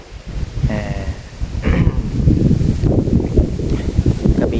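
Dry morning wind in a cool-season rural Thai setting, a steady broadband rush that swells and gusts across the clip with rustling, buffeting the microphone, with no one talking.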